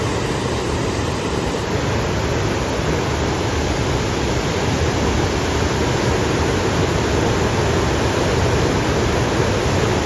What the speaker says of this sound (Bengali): স্পিডে জল বেরোচ্ছে দেখুন ওইদিকে কুয়াশার মতন জল পাস করে যাচ্ছে